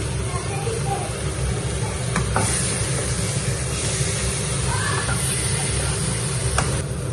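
Garlic, ginger and onion frying in oil in a pan, giving a steady broadband sizzle with a low rumble beneath it and a few faint clinks from stirring, with no talk.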